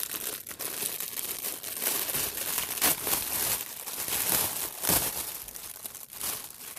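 Crinkly plastic packaging rustles and crackles up close as a new purse sample is unwrapped, with bursts of sharper crumpling scattered through continuous handling noise; no one speaks.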